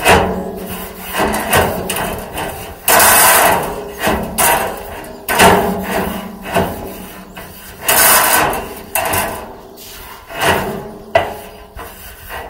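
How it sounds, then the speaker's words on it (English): A wire brush or scraper scrubs the metal grill grate of a Gateway drum smoker. Loud, close, repeated rasping strokes come in uneven bursts with brief pauses and occasional knocks. "I want to clean that grill grate up just a little bit from the previous cook."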